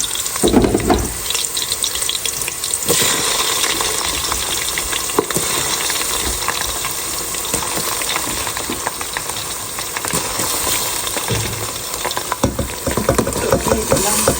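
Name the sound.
onions frying with rice added in a pot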